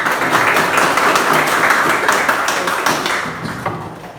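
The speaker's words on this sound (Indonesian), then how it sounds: "Oke, tepuk tangan." A classroom of students bursts into loud, brisk applause, dense at first and gradually thinning out toward the end.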